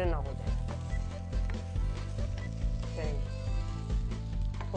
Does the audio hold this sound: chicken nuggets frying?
yes